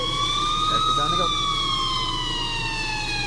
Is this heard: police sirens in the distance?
yes